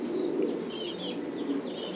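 Pigeons, including Pakistani Teddy, Lahori and Sirajee fancy breeds, coo softly in a loft, their low murmuring continuous and faint with some light wing flutter and chirps in the background.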